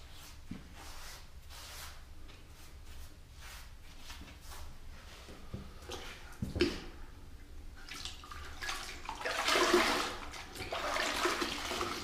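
A grout sponge is wrung out over a bucket of water, giving splashing, dripping and trickling sounds that swell into a louder gush of water near the end, with no talking.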